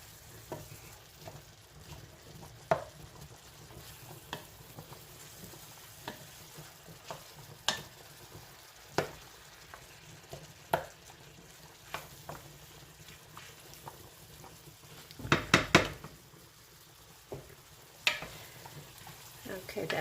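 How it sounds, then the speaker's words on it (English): Butter sizzles faintly in a pan with a low crackling hiss, broken by scattered clicks and scraping taps of a utensil and a short clatter late on. "Okay, that butter is all melted."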